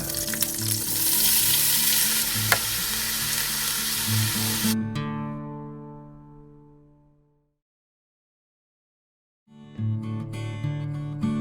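A kilogram of onions drops into hot oil and butter and hisses loudly and steadily for several seconds, then the sizzle dies away to near silence before fainter frying returns at the end.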